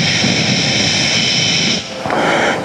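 A passenger train runs past with a loud, continuous roaring rumble, near and steady, that briefly dips and shifts in tone toward the end, with no talking.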